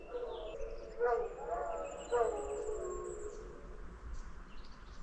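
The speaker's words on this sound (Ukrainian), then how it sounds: "Я так розумію, це вовки." Wolves howling in a mountain forest, several drawn-out wavering howls rising and overlapping at a moderate distance, faint against steady outdoor background noise, with no talking.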